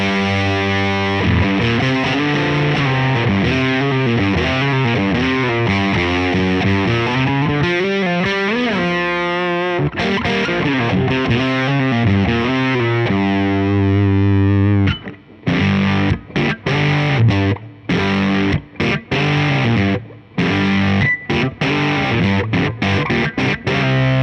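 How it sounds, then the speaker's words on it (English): Electric guitar played through the Tube OD overdrive effect, modeled on the BK Butler Tube Driver, on a Fender Mustang GTX amplifier with a blues rock boost preset: sustained distorted chords, then choppy staccato riffs, loud and alone. "Next up is Tube OD, or Overdrive, inspired by the BK Butler Tube Driver."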